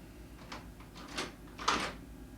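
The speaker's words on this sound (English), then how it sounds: "get out your wrenches. Open your toolbox." A toolbox being opened: three soft, close clunks and scrapes of lids or latches, quiet and spaced about half a second apart.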